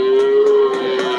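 Friesian-cross heifers and other cattle at a busy livestock market moo in a steady, loud, sustained call, with several overlapping lows repeating about every quarter second against a constant drone.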